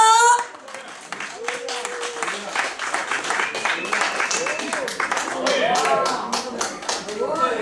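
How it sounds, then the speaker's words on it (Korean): Audience applause at a Korean traditional song association's year-end party performance: many hands clap steadily and loudly, close by, while a host's voice speaks over the crowd. "여러분 박수 한번 주세요"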